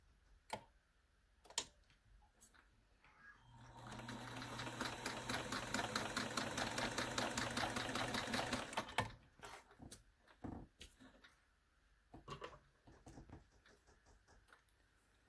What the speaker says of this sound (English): we're going to sew from this side to this side.